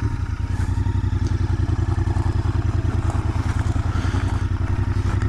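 Royal Enfield Interceptor 650 motorcycle engine idling or running steadily close by, a loud, even low-pitched thrum with rapid regular pulsing throughout, no voices.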